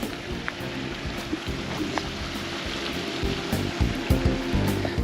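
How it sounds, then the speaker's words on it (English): Continuous rush of running water, steady and fairly close, with scattered splashes and small knocks over the flow. "I can hear running water, which you don't often hear here"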